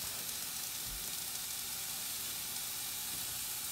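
A steak fries in a pan, giving a steady, even sizzle and hiss that runs unbroken and fairly close throughout, with no voices over it.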